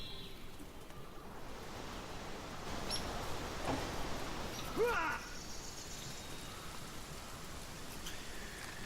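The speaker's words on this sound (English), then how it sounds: "Jahan, how about you put down a bit of rain?" A rain spell cast in the Divinity: Original Sin video game produces a steady, even hiss of falling rain that swells slightly midway, with a brief brighter spatter near the middle.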